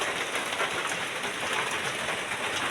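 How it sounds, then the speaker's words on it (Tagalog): Steady, heavy rain from Typhoon Kristine in the Philippines pours without a break, a dense hiss of drops close by with no voices. "talagang ang ulan ay walang humpay pa rin"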